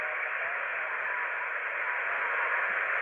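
Steady hiss of static on an Icom IC-R30 portable receiver with a telescopic antenna, tuned to the XW-2B ham satellite; any signal stays faint and buried in the continuous noise.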